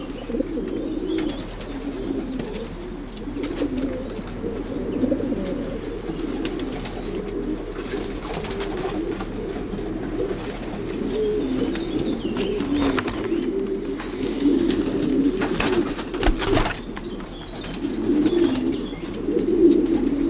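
Pigeons cooing steadily in a loft of champion racing cocks from a German breeder, a dense, continuous low murmur of overlapping coos with occasional sharper clicks and rustles, fairly close and even in loudness.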